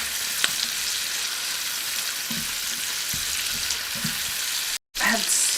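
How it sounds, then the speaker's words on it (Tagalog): Steady sizzle of tofu, seabass and vegetables sautéing in a pot, a continuous close frying hiss with a few soft stirring knocks and a brief cut near the end. "I will saute this"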